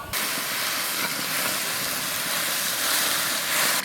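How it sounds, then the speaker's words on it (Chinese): Mutton broth simmers in an iron pot, giving a steady, loud, even hiss of steam and bubbling that runs unbroken from start to finish with no voices. "把羊肉汤炖几分钟，炖清了"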